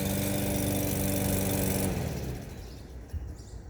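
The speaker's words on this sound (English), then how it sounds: "Lawnmower sounds" A lawn mower engine runs loud and steady up close, then its roar drops away and fades to a low rumble.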